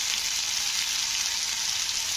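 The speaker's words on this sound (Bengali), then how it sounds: "আলুগুলো দেখো হালকা একটু ভাজা ভাজা হয়ে গেছে।" Potatoes frying in a pan give a loud, steady, close sizzle that runs unbroken throughout, with no voices.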